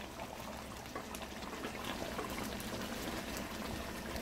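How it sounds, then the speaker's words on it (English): Hassar fish curry simmering in coconut cream over medium heat, a steady soft bubbling and hiss that runs continuously without a break. "So just let it simmer in a medium heat."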